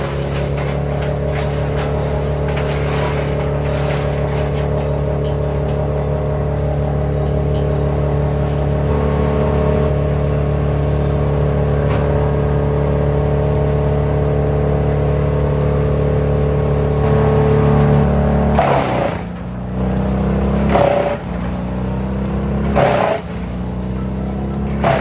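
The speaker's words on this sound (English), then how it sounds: "Today you're going to see this chipper just eat some trees, clean this forest up" A Vermeer wood chipper works on a large tree removal job in a forest, a loud, steady engine drone that holds for a long stretch and then dips and surges in rough bursts as trees are fed through.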